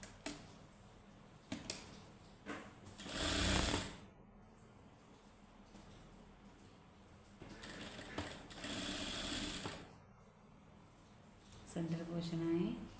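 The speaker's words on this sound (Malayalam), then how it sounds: "ഇനി ഞാൻ സ്റ്റിച്ചിങ് ചെയ്യാം." Sewing machine stitching fabric in a cutting and stitching lesson, in several bursts of rapid mechanical whirring, close and fairly loud, separated by pauses and brief quiet handling noises.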